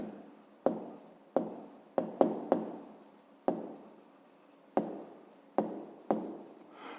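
A pen or pencil writes math on paper in short scratchy strokes, about a dozen separate bursts each fading quickly, close up and quiet with no talking.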